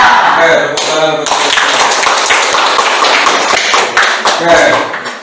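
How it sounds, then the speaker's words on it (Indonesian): A classroom of vocational high school students clapping hands together in a rapid, loud burst of sharp taps lasting several seconds, with voices mixed in. "tepuk tangan untuk"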